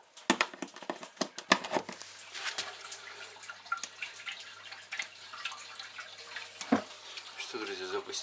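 Water runs and drips through a home plumbing system restarted after a burst plastic water pipe, with irregular splashes and trickles at close range.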